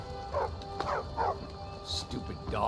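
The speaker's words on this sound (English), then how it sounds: "Stupid dog." Dog in the video game Skyrim giving several short, sharp barks and yips in quick bursts, moderately close over a low ambient game background.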